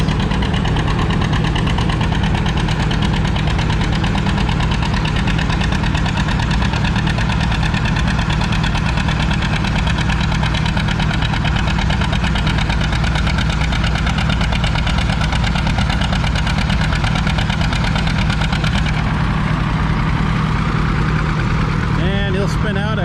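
A gas John Deere 70 tractor pulls a sled down the track at a vintage farming days tractor pull, its engine roaring loud and continuous, with a voice talking at times.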